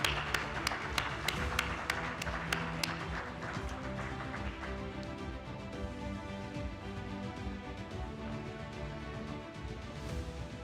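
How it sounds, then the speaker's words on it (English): Audience applause fills a conference hall for an African pension supervisors association event, starting with a few distinct sharp claps that merge into steady, moderate clapping from a large crowd, sustained throughout. "And a warm round of applause to our executive committee."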